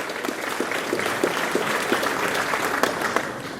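Steady applause from a crowd at a university convocation ceremony, dense clapping at an even level throughout with a few sharper claps standing out.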